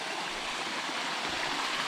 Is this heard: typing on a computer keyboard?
no